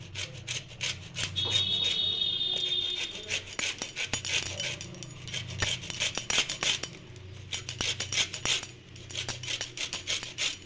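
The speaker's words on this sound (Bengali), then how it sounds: "লেবুর ওপরের খোসাটা একটু আমি গ্রেটার দিয়ে গ্রেট করে" Lemon peel being grated for an orange cake, a steady rasping scrape repeated in quick, close strokes that run throughout without talk.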